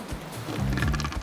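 A bull elephant seal beachmaster lets out a brief, loud, rasping bellowing roar that swells in the second half and ends abruptly.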